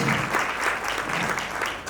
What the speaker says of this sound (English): So a big round of applause, welcoming each other to this fabulous afternoon that we have planned ahead.